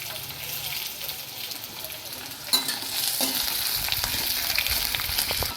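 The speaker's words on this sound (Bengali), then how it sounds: "আমার আলুটা একটু ভাজা হয়ে এসছে।" Potatoes fry in a pan with a steady sizzle. After a clunk, louder stirring and scraping set in, with brief hints of a voice in the background.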